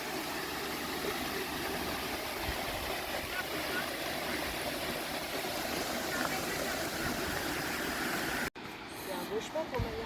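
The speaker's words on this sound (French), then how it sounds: "c'est un tout petit ruisseau comme ça, en fait" The Hérisson, a tiny stream in the Jura valley, gives a steady broadband rush of flowing water heard close and continuous, then cuts abruptly to a quieter outdoor scene near the end.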